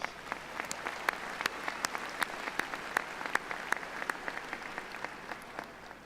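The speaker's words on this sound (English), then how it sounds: "Let's give them a round of applause." An audience at a university commencement ceremony claps steadily, with a dense patter of hands and sharper individual claps standing out, continuing for several seconds without talk.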